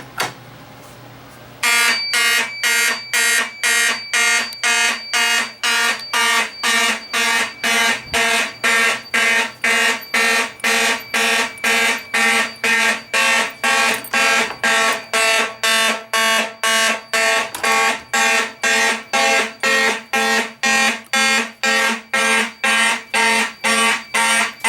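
A Simplex fire alarm system sounds loudly and steadily during a test, its horns pulsing in rapid, evenly spaced blasts that continue nonstop after a brief quiet start.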